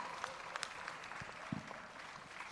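Audience at a youth company-of-the-year event claps and cheers for a Zambian team, a faint, distant spread of applause with a few sharper individual claps standing out.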